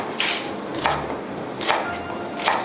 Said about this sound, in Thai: ตามด้วยตะไคร้นะคะ ตะไคร้หั่นเฉียงนะคะ